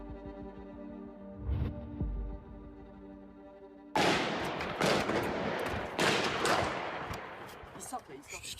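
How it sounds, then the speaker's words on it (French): Gunfire in a street shootout during the 2015 Paris attacks: a few sharp reports early on under a low rhythmic tone, then a dense burst of loud, rapid cracks and echoes from about the midpoint onward. "Pendant cette fusillade, un seul agent réplique."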